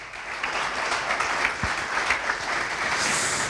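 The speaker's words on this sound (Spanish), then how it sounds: "Un aplauso." Continuous applause from the audience at the presentation of the 46th Valenciaga memorial cycling race, steady and fairly close throughout with no voices.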